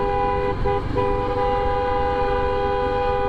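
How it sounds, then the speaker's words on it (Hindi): A vehicle horn held down continuously in traffic, heard from a moving motorcycle during a ride, loud and steady for several seconds with engine and road rumble beneath. "हॉर्न पे हाथ ही रख लेती है सीधा"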